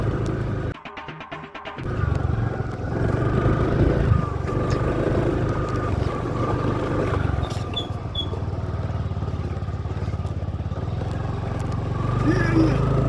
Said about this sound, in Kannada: ಸ್ಕೂಟಿ ಸಿಕ್ತು ಗೈಸ್, ಹಂಗೆ ಹೋಯ್ತಾ ಇದ್ವಿ